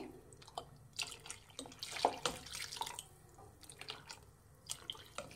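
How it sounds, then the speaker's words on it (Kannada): Water poured from a vessel into a pot of broiler chicken sambar, a close, irregular run of splashes and drips lasting several seconds with no talk. "ನಾನು ಇನ್ನೊಂದು ಸ್ವಲ್ಪ ನೀರು ಹಾಕ್ತಾ ಇದ್ದೀನಿ."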